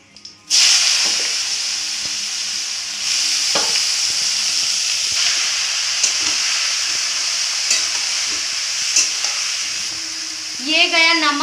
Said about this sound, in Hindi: तो अभी इसमें ये जो कद्दू कट के रखा है ये जाएगा।